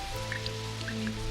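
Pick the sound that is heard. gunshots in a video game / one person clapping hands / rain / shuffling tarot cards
rain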